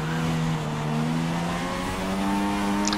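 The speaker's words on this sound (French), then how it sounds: "un gros sous-régime, de toute façon on l'entend vraiment" A Renault F1 car in F1 2016 bogging at low revs, a steady droning engine note with slowly shifting harmonics, moderately loud and continuous with no talk.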